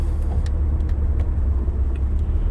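Steady road rumble from inside a car cruising slowly along the road on Easter Sunday, a continuous low engine and tire drone with no talking.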